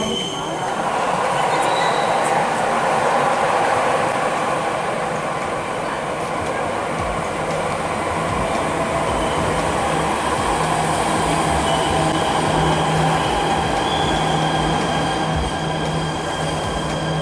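Jakarta MRT metro train riding, heard from inside the car: a steady loud rumble of wheels on rail with a faint squeal, continuous throughout.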